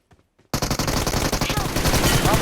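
Rapid automatic gunfire from the PUBG Mobile battle royale game bursts in after a brief quiet moment, a loud, dense stream of shots that continues without a break to the end.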